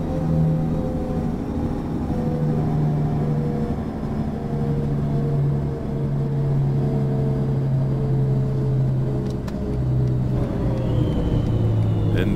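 Simulated city bus engine in OMSI 2 winding down as the bus slows from about 80, a steady low droning rumble with faint shifting tones, continuous and close throughout.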